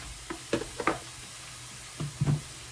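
A little olive oil sizzles in a pan while turkey fries, giving soft crackles and a few sharp spits and stirring clatters over a quiet, steady hiss, with no talking.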